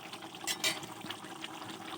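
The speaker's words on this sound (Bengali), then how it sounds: "তরকারিটা দেখো ফুটে এসছে" A pot of katla fish kalia curry simmers on the stove, bubbling and gurgling softly and steadily, with a couple of brighter splashy bursts near the start. It sounds faint, with no voices.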